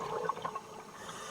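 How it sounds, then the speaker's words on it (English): Underwater bubbling as divers' exhaled air escapes in streams from the holds of the SS Thistlegorm wreck in the Red Sea, a soft gurgling rush that swells briefly and then thins out. "trapped air from the divers in the holds below escaped in streams of silver bubbles"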